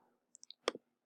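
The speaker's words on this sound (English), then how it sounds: "You just keep clicking." Faint, quick clicks while selecting groups: three light ticks in quick succession, then two slightly louder clicks close together, in a quiet room.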